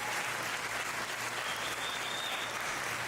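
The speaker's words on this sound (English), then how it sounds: "And let's just give them one big round of applause." An audience gives a round of applause for parents and teachers, with steady, even clapping from many hands throughout a short stretch, moderately distant.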